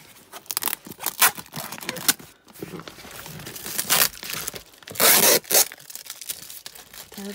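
Packing tape being ripped off a parcel in several loud, crackling bursts, with rustling and handling noises between pulls, close by and with no voices.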